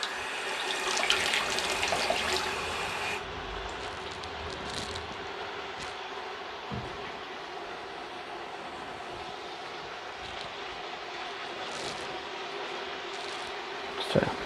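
Running tap water splashes steadily as hands are washed at a kitchen sink after handling raw meat, strongest for the first few seconds and then a softer continuous hiss with faint kitchen sounds.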